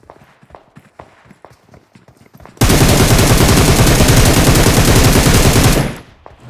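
Gunfire in the mobile game BGMI: after a few quiet footsteps and faint sounds, a very loud, rapid burst of automatic fire rattles nonstop for about three seconds before cutting off.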